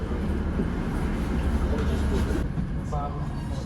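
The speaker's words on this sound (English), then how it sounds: "Taking us down to Whitby is this Class 156 diesel train" A Class 156 diesel train, in service since 1988, rumbles along on the Esk Valley Line near Middlesbrough, a steady low onboard engine drone and rolling noise heard close and continuous from inside the carriage.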